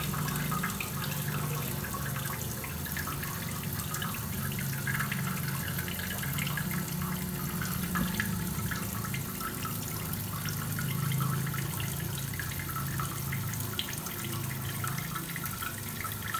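Water rushes steadily into a toilet tank through a Fluidmaster fill valve, a continuous close hiss and gurgle of refilling that runs at an even level throughout without any talk.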